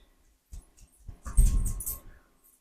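Indoors, a dog moves around close by, soft scrabbling and patter of paws with a few brief bumps, starting quietly after a near-silent moment and rising to a short burst of busier shuffling before fading.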